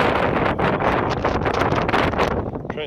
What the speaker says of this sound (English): I'm trying to keep the camera out of the wind.